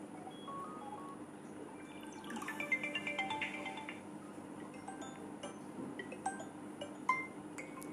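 A ringtone plays on a Vivo Y21 phone, a bright, light melody of plinking, chiming notes, soft and tinny against a faint steady hum.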